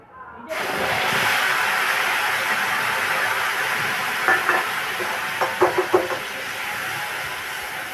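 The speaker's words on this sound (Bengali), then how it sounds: "পেঁয়াজটা আমরা একটু হালকা ভেজে নেব।" Onion paste frying lightly in a pan for a catla fish kalia curry, a loud steady close sizzle that starts abruptly and holds throughout, with a few soft stirring scrapes partway through and no talking.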